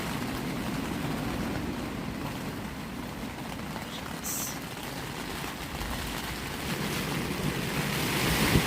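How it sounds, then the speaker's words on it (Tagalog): Strong storm wind at a campsite in Canada roars and buffets steadily, with rushing, surf-like noise swelling louder toward the end and no clear speech. "Lakas ng hangin, no?"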